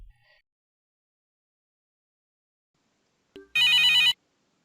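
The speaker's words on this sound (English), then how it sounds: "I notice that there is an incoming call notification on the CTI widget" An incoming-call ringtone sounds from an SAP Service Cloud CTI widget on a computer: a short click, then a loud, bright electronic ring burst lasting about half a second, otherwise near silence.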